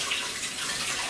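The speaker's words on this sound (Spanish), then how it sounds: "Agrega 20 miligramos de agua tibia." Warm water is poured into a mixture while cooking, giving a brief, steady splashing trickle heard up close.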